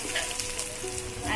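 Poppy seeds and cashew nuts frying in a pan, a soft, steady crackling sizzle with faint spattering, fairly quiet and continuous throughout the short moment.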